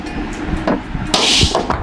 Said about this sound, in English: we might grab the hammer and just tap it.